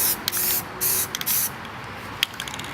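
Aerosol spray paint hisses onto a toolbox, coating it black in several short bursts of about half a second each, with brief pauses and small clicks of the nozzle between sprays, close and loud.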